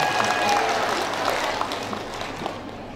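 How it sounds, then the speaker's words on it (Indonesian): An audience at a Dumai charity handover event for rebana percussion groups applauds a woman, steady clapping from many hands filling the space for a few seconds and tapering slightly at the end. "tepuk tangan dulu buat ibu ya."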